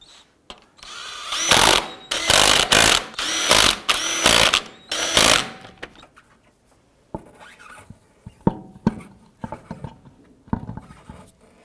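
An impact or power tool snugs down wheel lug nuts on a 2004-2009 Dodge Durango: several loud, close buzzing bursts in a row, then quieter clicks and clatter as nuts are handled, with no talking.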